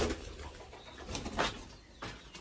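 Domestic pigeons in a coop, one sitting on an egg, give soft, close coos in a few separate bursts over a quiet background.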